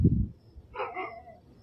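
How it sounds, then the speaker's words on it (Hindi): A dog barks once in the distance at night, a faint, short yelp heard alone after a brief low thump. "भाई कुत्ते की भौंकने की आवाजें कहाँ से आ रही है भाई?"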